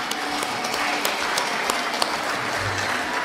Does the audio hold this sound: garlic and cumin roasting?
no